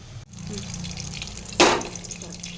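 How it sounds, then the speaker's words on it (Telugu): Paneer frying in hot ghee, a steady close sizzle throughout with one brief louder hiss burst partway through. "కాస్త నెయ్యి వేసుకుంటున్నాను పన్నీర్ని వేయించుకోవడానికి"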